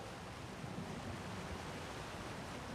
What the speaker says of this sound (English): Here, behind the waterfall!